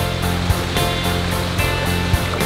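Someone wades through cold water, with rushing, splashing water noise that stays loud and constant, broken by a few brief sloshing steps.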